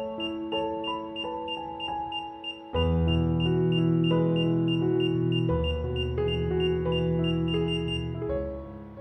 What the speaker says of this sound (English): press and hold the red arrow reset button for around 22 seconds or until the remote beeps go silent.